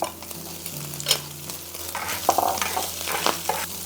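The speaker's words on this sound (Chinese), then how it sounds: "把这前面焯好水的这些配菜给它倒下去也给它炒一下" Blanched vegetables and leftover egg white are stir-fried in a wok for egg fried rice, with a steady sizzle and scraping stirs that come in several close, clattering strokes.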